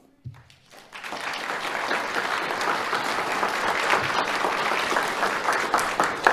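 After a moment of quiet and a low thump, an awards ceremony audience breaks into sustained clapping that stays full and even to the end.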